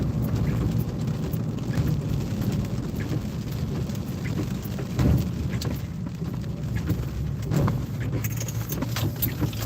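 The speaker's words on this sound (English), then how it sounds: "There's a thunderstorm coming in." An approaching outdoor thunderstorm brings steady rain and a low rumble of thunder, a dense continuous wash of sound with a few louder swells and no speech.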